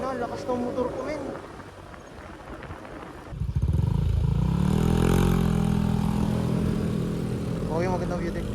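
Honda RFI 175 motorcycle engine on a mountain road, a steady mid-range drone that swells louder and revs up partway through, with voices talking over it early on.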